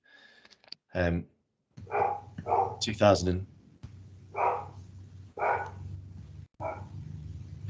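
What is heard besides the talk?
dog barking over an open microphone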